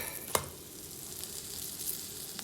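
Naan bread sizzling in a hot pan over medium-high heat, a brief clatter as it is flipped, then a steady low frying hiss continues alone.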